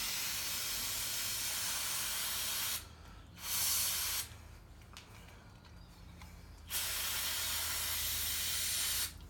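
Carb cleaner spray and compressed air blast through the jets of a clone motor carburetor in long hissing bursts, with a short break and a quieter stretch between the strong sprays.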